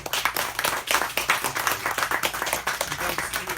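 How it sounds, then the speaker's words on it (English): An audience at a book talk gives a warm round of applause for two authors, with close, brisk, rhythmic clapping that stays steady and fairly loud throughout. "Let's give them a nice warm round of applause."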